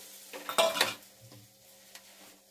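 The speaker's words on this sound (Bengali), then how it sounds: "এই চালের গুঁড়ি গুলেছি জল দিয়ে, এটা ঢেলে দিচ্ছি, ঢেলে দিলাম" Rice flour mixed with water is poured into a pan of mixed leafy greens, giving a short splashy sizzle and a clatter of metal, then fading to a soft simmer.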